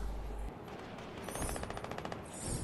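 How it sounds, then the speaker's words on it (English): Rapid video game gunfire crackles in repeated bursts, a dense rattle of automatic shots over a busy background mix, fairly loud and without talk. "Look at all this shooting."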